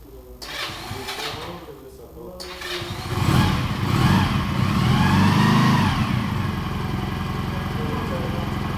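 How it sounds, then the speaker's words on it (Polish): A Junak M16 motorcycle with a 125cc engine turns over and fires up, then settles into a loud, steady, close mechanical running chug that holds to the end after a brief, quieter opening. "Tak jak było słychać właśnie, to był junaczek M16 z silnikiem 125 cm."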